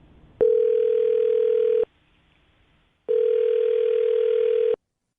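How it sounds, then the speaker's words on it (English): Telephone ringback tone sounds during an outgoing call: two long, steady electronic beeps of about a second and a half each, separated by a short quiet gap, clear and alone. "I'm going to dial his phone number right now"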